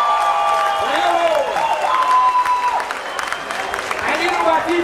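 Applause fills a crowded Bavarian beer festival tent at the Gäubodenfest for the festival host and his wife: steady clapping under loud crowd noise, with voices and tonal sounds running through it.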